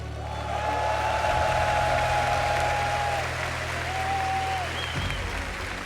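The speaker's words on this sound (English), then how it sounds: "each of these players deserves their own big applause" A crowd at the RLCS Rocket League World Championship 2025 applauds the champions with steady clapping and cheering, heard somewhat distant under a broadcast mix with a droning low tone.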